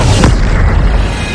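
A Bombarda spell detonates in Hogwarts Legacy, one close, heavy boom early on with a sharp burst fading into low rumble, no voices heard.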